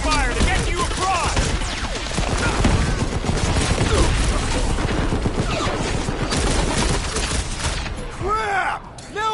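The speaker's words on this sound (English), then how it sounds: "I'll lay down some cover fire to get you across!" Dense cover gunfire rattles nonstop in a Marvel's Guardians of the Galaxy battle, loud rapid shots layered with bursts and impacts, while voices shout over the firefight.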